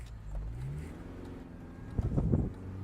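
A Mini Cooper S R53 car drives along with a low engine drone under wind noise, briefly rising in a short burst of revving near the end.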